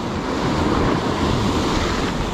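Big sea waves crash and surge in a steady, loud broadband roar with wind buffeting the microphone, continuous and close throughout, no talking.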